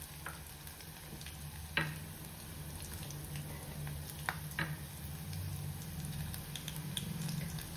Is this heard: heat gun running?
no